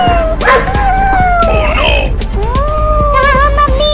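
A cartoon dog barks and yips over a bed of music, with a frantic cartoon voice crying out amid the loud, busy mix.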